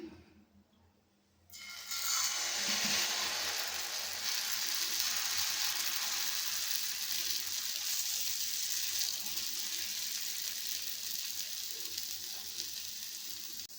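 Wheat flour dosa batter hits a hot, oiled pan, bursting into a loud, steady sizzle after a quiet second and a half. The sizzle then holds, fading slightly.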